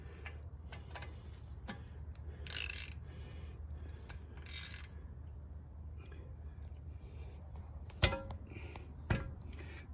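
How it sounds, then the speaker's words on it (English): A socket wrench tightens a brake holding piece on a front brake job of a BMW X4/X3, giving soft repeated ratchet clicks and mechanical ticks over a low hum, with a couple of sharper metallic knocks near the end. "Do that up with a socket so it's not too tight."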